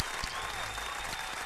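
Brief burst of audience applause in a studio interview, dense clapping throughout with faint background voices.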